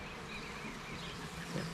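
Honey bees from a packaged colony two months after install buzz at their hive, a steady close, moderately loud hum that holds without a break, with no voices over it.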